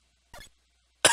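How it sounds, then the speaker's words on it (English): Two short, sharp coughs close by, separated by a brief silent pause, the second one louder. "there's that first cough"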